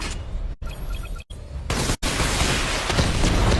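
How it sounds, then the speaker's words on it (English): Missile barrage from the Batmobile in Batman: Arkham Knight fires in rapid bursts, with loud booming volleys and dense crackling fire that swell into a continuous roar near the end, with no talking. "Missile barrage level 2 ready."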